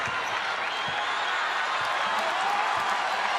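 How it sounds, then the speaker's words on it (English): Basketball arena crowd urging on the Iowa Hawkeyes during a third-quarter game against Maryland: a broad, loud, sustained roar of many voices filling the space, with scattered thuds underneath. "Crowd trying to urge on their Iowa Hawkeyes"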